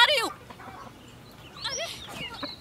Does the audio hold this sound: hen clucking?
yes